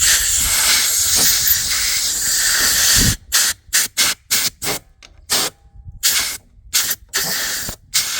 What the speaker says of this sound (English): Ain't the best air system in the world, but it's air.